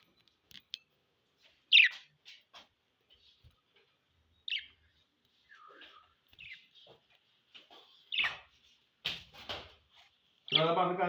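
Pet pigeons and budgerigars in a house give scattered short chirps and tweets, mostly faint and spaced out, with a louder burst at the end, while a person speaks intermittently.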